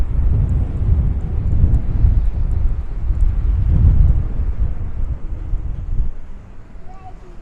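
Wind buffets the microphone on a sunny outdoor walk, a loud, continuous low rumble that swells and eases in gusts.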